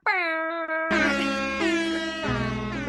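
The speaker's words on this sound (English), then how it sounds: "it was like a sad air horn too" A comedic sound-effect horn played on a podcast, a droning tonal blare that shifts pitch partway through and continues in stepped, wavering tones for a few seconds, sounding somewhat deflated.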